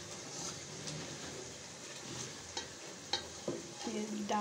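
Spiced masala sizzles and fries in a pan for chicken chatni ghosht, a steady crackling hiss with scraping stirring strokes and a few louder clacks near the end, no voices.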